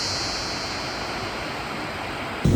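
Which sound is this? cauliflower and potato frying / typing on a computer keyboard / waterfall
waterfall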